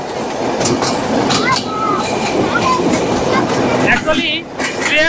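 The Chilahati Express rumbles and clatters loudly and continuously through Tejgaon railway station in Bangladesh, with brief high wheel squeals toward the end.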